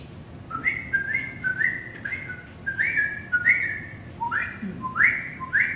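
A person whistles an imitation of mockingbird song, a series of short rising and sliding phrases repeated in sets, fairly soft against a steady room background.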